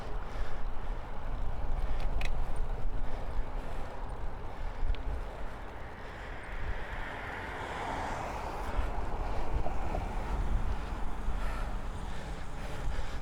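A strong headwind buffets a cyclist's microphone with a steady, loud roar of low rumble and rushing air, continuous throughout, with no talking.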